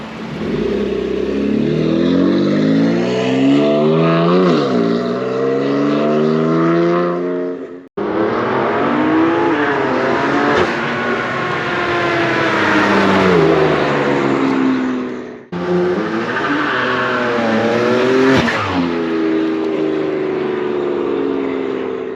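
A 2018 BMW M4 F82 engine roars through three long, loud revving passes, each climbing and dropping in pitch like accelerating runs through the gears, separated by brief cuts, close up with no talking.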